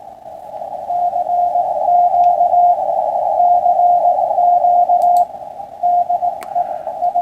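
A steady radio sidetone keys out a Morse code CQ call in dashes and dots, a continuous tone with brief gaps and faint static behind it.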